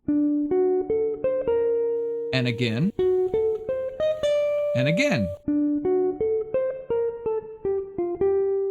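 Clean guitar plays a stepwise melodic line of plucked single notes outlining the bridge of a song, interrupted twice by someone speaking briefly over it.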